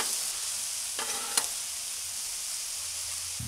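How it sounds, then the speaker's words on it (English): Vegetables for pepper steak sizzle steadily on a Blackstone griddle while a spatula stirs them, with a brief scraping clatter partway through, close and fairly loud with no talking. "Mix our veggies up one more time."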